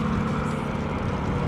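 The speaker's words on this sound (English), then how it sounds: "That's a Merlin engine running up." A Spitfire's Rolls-Royce Merlin engine running up at an RAF airfield gives a steady, rumbling low drone with a heavy constant roar, heard from some distance with no talk.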